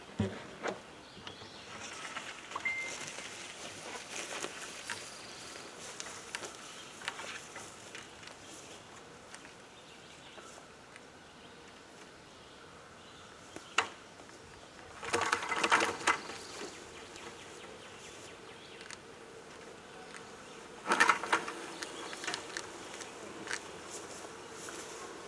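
A swarm of bees hums faintly and continuously, with louder bursts of buzzing and rustling near the middle and end, close by in an outdoor setting with no talking.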